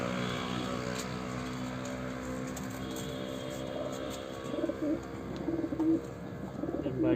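Madrasi pigeons coo softly in a loft, with repeated low throaty coos growing more distinct in the last few seconds over a faint background hum.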